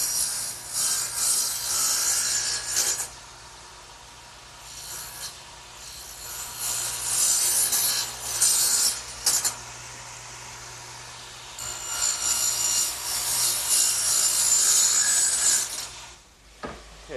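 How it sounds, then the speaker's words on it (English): A radial arm saw cuts wood at a shallow angle for a workbench, giving bursts of harsh, bright rasping that come and go over several seconds, separated by quieter gaps and a steady motor hum. "I'm going to have to swing my radial arm 4 degrees on the other side of 0 to make these cuts"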